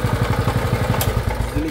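A small petrol engine on a Walk Machine 100cc/210cc idles with a steady, close, rhythmic chug as it is being shut off, with no talk over it.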